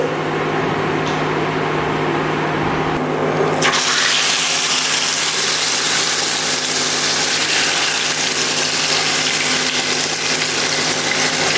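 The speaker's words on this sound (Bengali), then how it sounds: "তো অয়েল গরম হয়ে গেছে, আর আমি এবার চিকেনটা ছেড়ে দিচ্ছি।" A whole chicken drops into hot oil and a loud, steady broadband frying hiss erupts and fills the rest of the stretch, with a low hum beneath and no talking.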